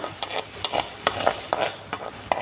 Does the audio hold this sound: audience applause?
no